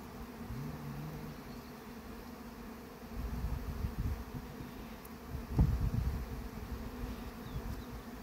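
Honeybees buzz around a beehive in the field, a steady dense hum close by with individual bees droning past, their pitch rising and falling.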